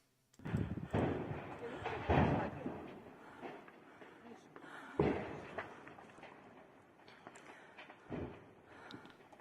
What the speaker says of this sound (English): You see a little bit of an explosion going on over there